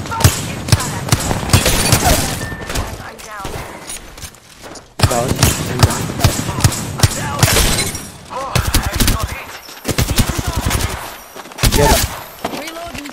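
Rapid automatic gunfire bursts in the shooter game Apex Legends, heavy and close, with impact cracks and shattering sounds between volleys and a player talking over parts of the fight.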